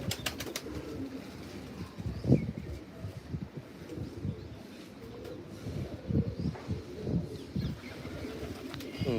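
Pigeons being fed roti coo in low, rumbling bursts throughout, with occasional wing flutters and pecking close by; no one speaks.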